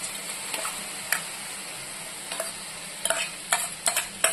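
Ginger paste being stirred into spices frying in a pan, with soft scraping strokes and a faint sizzle punctuated by several sharp clicks of the spoon against the pan.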